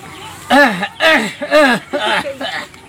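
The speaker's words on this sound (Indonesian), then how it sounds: "batuk gitu lah." A person coughs several times in quick, rough bursts up close, the hacking sounds strained and throaty.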